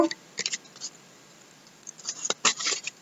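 Tarot cards being cut and shuffled on a slippery mat, giving soft scattered slides and light card slaps, sparse at first and then a denser flurry near the end, close and fairly quiet.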